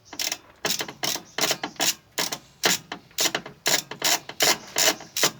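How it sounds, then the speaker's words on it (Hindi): Ratchet wrench working a rusted bolt on a Maruti 800, about a dozen sharp clicking bursts in a steady back-and-forth rhythm, close and clear with no talk. "बहुत आपको मज़ा आएगा इस तरह के जगह पे रैचेट यूज़ करने में"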